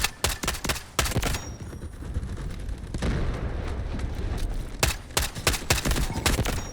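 SVD marksman rifle fire in the Delta Force video game: a cluster of sharp, loud shots opens the passage, then a sustained rumbling stretch, then a second burst of close, rapid cracks near the end.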